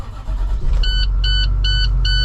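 A 2011 International 3200 shuttle bus engine cranking and catching, a low steady rumble close by with a regular dashboard warning beep chiming over it.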